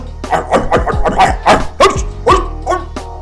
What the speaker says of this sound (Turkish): Bak kapıya bir de köpek var amca.